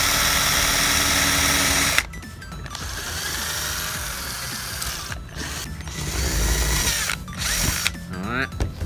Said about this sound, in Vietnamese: Mình sẽ khoan cái này trước nha.